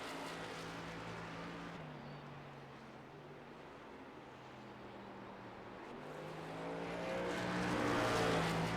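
A race truck on a qualifying lap at Stafford Motor Speedway: a steady engine drone with shifting pitch that fades slightly, then swells louder toward the end as it draws closer, with no one talking.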